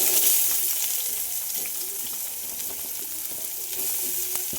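Sliced onions hiss and sizzle steadily in hot oil in a pressure cooker while chicken curry is being made, a continuous close frying crackle with faint stirring and no talk.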